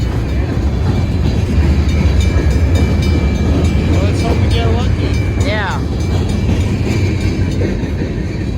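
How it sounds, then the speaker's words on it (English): A BNSF freight train rumbles past close by with steady clatter and a brief high wheel squeal, while people talk over the noise. "this train goes up to Montana"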